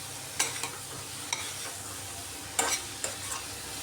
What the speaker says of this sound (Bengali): আরও কিছুক্ষণ এইভাবে নাড়াচাড়া করে নিচ্ছি